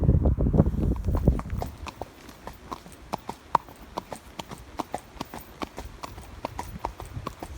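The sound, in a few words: horse hooves walking while being ridden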